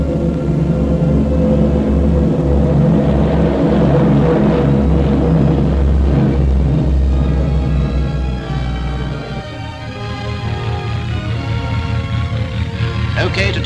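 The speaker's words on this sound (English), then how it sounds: "Another Beaufighter, a Hudson, yet another Beau, a Blenheim, a Wellington, a giant Liberator." WWII RAF aircraft, a Beaufighter, Hudson, Blenheim, Wellington and Liberator, take off with a loud, continuous, droning engine roar that shifts in pitch and eases off partway through. A voice narrates over it.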